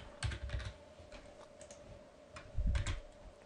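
Typing on a computer keyboard while coding web chapter pages, quiet bursts of clicking keystrokes in two short clusters with a faint steady hum beneath.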